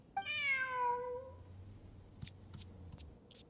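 A cat meows in the video game Genshin Impact, one clear, close, drawn-out meow at the start, then a quiet stretch with a few faint clicks and rustles.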